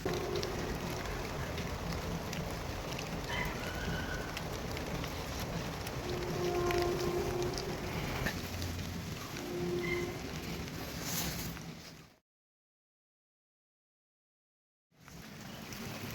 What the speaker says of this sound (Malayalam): നല്ല മഴയാണിപ്പം.